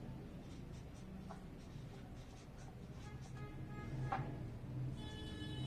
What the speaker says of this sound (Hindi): पहला पॉइंट हम लोग लिखेंगे